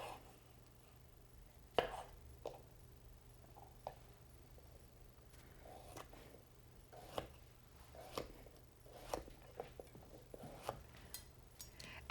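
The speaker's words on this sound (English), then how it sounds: "you want to make sure that you are cutting off the ends of this vegetable here" A knife trims the ends off a cucumber on a cutting board, giving a few sharp, sparse cuts and taps spread across a quiet kitchen with a low steady hum behind.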